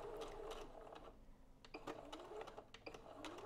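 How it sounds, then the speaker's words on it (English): A sewing machine stitching a bar tack on a bra strap runs back and forth in short, quiet mechanical bursts of rapid needle clatter, close and low in level. "I'm going to start in the middle, sew to the end, and then go all the way back to the beginning, and then sew forwards again."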